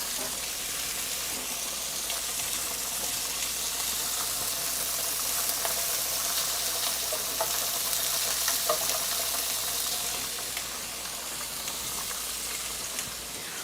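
Pork chops sear in a hot pan, giving a loud, continuous hissing sizzle that holds steady throughout with no talking.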